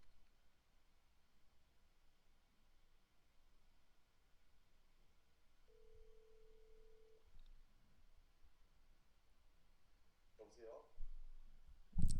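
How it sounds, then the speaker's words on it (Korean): An outgoing phone call's ringback, heard as one faint steady tone lasting over a second against soft background hiss, followed near the end by a few brief clicks and rustles. "뭐 전화해달라고 하니까 제가 한번 전화 한번 해보겠습니다."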